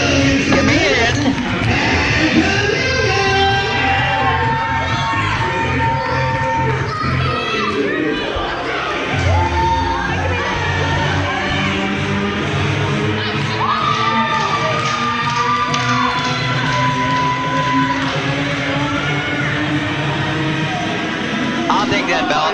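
A wrestling show crowd roars and cheers without pause, a dense wall of shouting and whooping voices with children's high yells mixed in, loud and close throughout.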